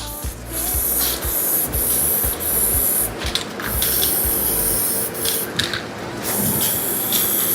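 White spray paint being sprayed onto wood as a base coat, heard as a run of close, loud hissing bursts with brief pauses between passes.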